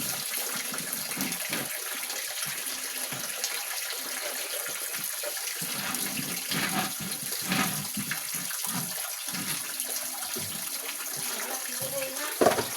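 Steady running water from a tap or tub fills a bath in a home setting, a continuous broadband rush throughout with occasional splashes, while people talk intermittently over it.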